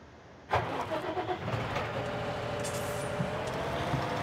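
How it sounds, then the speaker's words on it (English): After a moment of quiet, a small thin-wheeled tractor engine in a farming video game starts abruptly and settles into a steady idling drone, fairly close and moderately loud. "It's the little thin-wheeled tractor."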